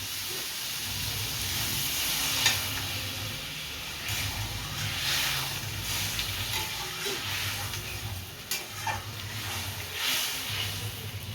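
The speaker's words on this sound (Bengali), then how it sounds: "এবার আমি জল দিয়ে দেবো" Spiced vegetables sizzle and hiss steadily in a pan as water is poured in for a fish curry, giving a continuous soft steamy frying noise with occasional crackles and stirring, no talk.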